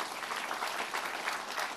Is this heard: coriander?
no